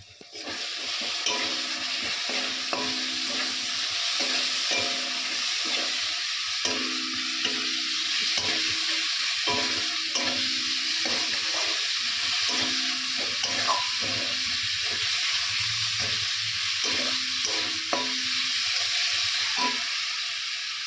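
Spices and tomato frying in a pan, a steady loud sizzle with repeated stirring scrapes throughout, close up and without talk.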